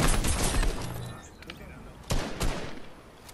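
Bursts of Fortnite gunfire, several rapid shots with a couple of sharp louder blasts, mixed with muffled voices and game noise.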